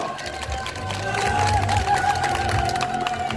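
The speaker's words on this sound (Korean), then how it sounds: "축하의 박수 한 번 보내주시죠." Congratulatory applause from a crowd at an outdoor street carnival award presentation, busy clapping and murmuring mixed with background music tones and voices.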